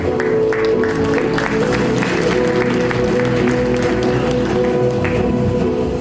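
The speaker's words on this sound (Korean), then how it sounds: "이성균 학과장님 큰 박수로 맞이해 주시기 바랍니다" Audience at a university architecture department's 40th anniversary ceremony gives a welcoming round of applause: dense, steady clapping from a sizable crowd, loud and sustained throughout, over a tonal hum of hall music or sound system.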